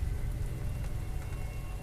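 Steady rain falls heavily on a surface around a home during a stormy night, a dense, continuous hiss with deep low rumble and no voices, constant in loudness throughout.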